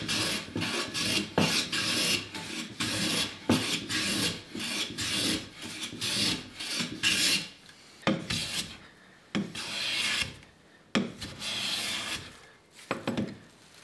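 Razor-sharp hand plane smoothing a rough piece of ash wood, with repeated close rasping strokes in a steady back-and-forth rhythm, each stroke separated by brief pauses, and no talking.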